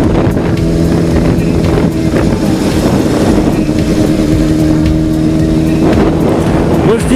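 A motorcycle rides through the streets of Sengiley, Russia, captured first-person. A steady engine drone hums throughout, mixed with constant wind rush, with no talking.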